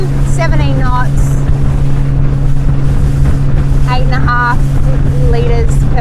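A Highfield 380 Sport boat runs at 4,000 RPM and 17 knots through a wake, its outboard engine holding a steady drone under heavy wind and water noise while someone talks over it.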